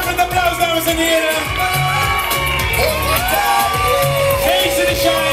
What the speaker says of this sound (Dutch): Geef ze een daverend applaus, dames en heren!